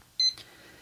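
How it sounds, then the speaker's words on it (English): A kitchen-style timer gives a single short, clear electronic beep on being unpaused, followed by a faint click in an otherwise quiet room. "I have to unpause my timer."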